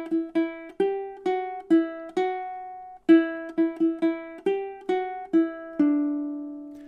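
Ukulele melody picked note by note with alternate picking, a steady run of about fourteen clear plucked tones in even time, played solo and close, with the last note left ringing.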